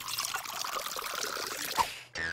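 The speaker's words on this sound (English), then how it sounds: "Take a large jar, and you fill it almost to the top with water." Water is poured into a large jar, a close, steady gurgling splash that rises slightly in pitch as the jar fills, then cuts off abruptly near the end.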